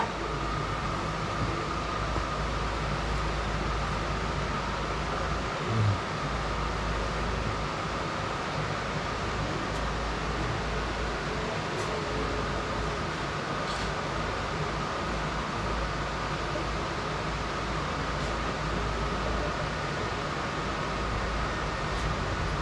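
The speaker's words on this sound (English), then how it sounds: "That's another reason why the fans are still running, just to keep some air moving around in here" Shop fans running continuously in a workshop, giving a steady even whoosh of moving air with a low hum underneath, broken only by a faint brief knock near the middle.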